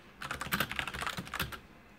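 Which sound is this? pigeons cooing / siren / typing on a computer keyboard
typing on a computer keyboard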